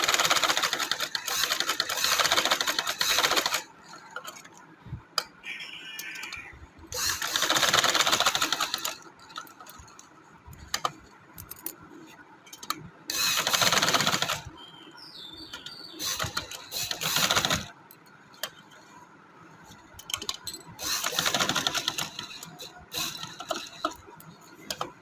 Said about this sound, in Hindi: बस एक ही हम सिलाई लगाएंगे, इसको हम जब सिलाई लगा लेंगे फिर उसी को हम डबल कर लेंगे।